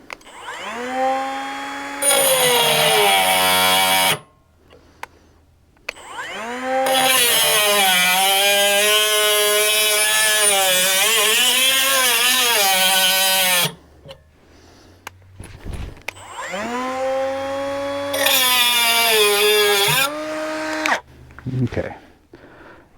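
A Hyper Tough cordless cutoff tool grinds through 1/2 inch conduit in three loud, close runs, each a high whining cut that rises and strains before stopping, separated by short pauses.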